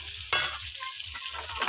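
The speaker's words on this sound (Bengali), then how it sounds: "এবার আমি চিকেনের আলুটা ভেজে নেব। এবার ভালো করে ভাজা করে নিচ্ছি" Potato pieces fry in oil in a pan for chicken curry, giving a steady close sizzle broken early by a sharp clatter of stirring, with no talking.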